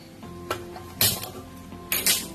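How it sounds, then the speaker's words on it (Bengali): A metal frying pan clanks down onto a lit gas stove with a few sharp clinks and a heavier clatter, close by, with no talking. "ফ্রাই প্যানটা চাপিয়ে দিলাম।"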